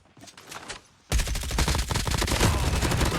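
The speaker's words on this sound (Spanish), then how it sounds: "Tenemos disparo por acá, chicos." Rapid bursts of video game gunfire in Call of Duty Mobile erupt suddenly after a quieter moment, loud and close, continuing as sustained automatic shooting.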